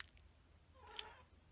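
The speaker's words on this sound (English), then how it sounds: "my cat's talking." A cat gives a single short, faint meow near the end of a quiet moment indoors, brief and soft against low room noise.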